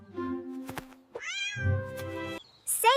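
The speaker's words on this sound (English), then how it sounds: "A cat? Where? Oh, Kitty, don't be scared" A cat gives several close, clear meows with rising and falling tones, separated by short pauses, with a sharp higher cry near the end.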